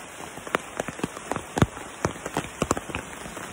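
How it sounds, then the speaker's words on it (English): Rain falls on a campsite near a tent, scattered close drips and patters striking a surface at an irregular rhythm over a faint steady hiss. "And we're gonna hope it stops raining soon."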